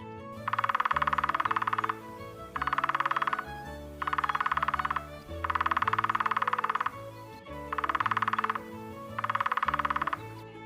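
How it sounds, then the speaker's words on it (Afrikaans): A woodpecker drums on wood in rapid bursts, about six separate runs of fast tapping with short pauses between, set over a steady background of children's music and heard fairly close. "Dit is 'n houtkapper."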